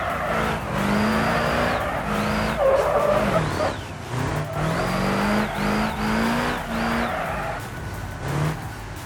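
A car drifting in the BeamNG video game, with repeated tire squeals rising and falling as the engine revs up and drops, continuous and fairly close.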